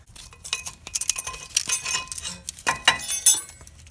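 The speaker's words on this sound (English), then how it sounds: "Now you can pull these pads off." Metal brake pads clink and rattle as they are pulled off the caliper during a front rotor and pad replacement on a 1999-2004 vehicle, a close series of irregular sharp metallic clicks and scrapes with no talking.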